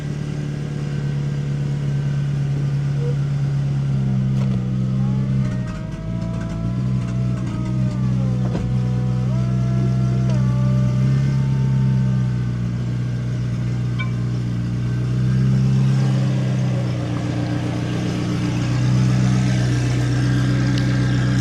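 A McLaren 570S engine runs loud and close, settling from a higher rev into a steady idle with shifting pitch, a dip midway and a slight swell later.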